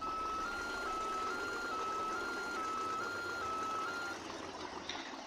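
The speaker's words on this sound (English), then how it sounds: "And that's the new reverse sound you're going to hear in all these trucks at Redwater." A truck in Farming Simulator 17 sounds a steady series of evenly spaced reversing beeps over a low engine hum, the beeping stopping about four seconds in.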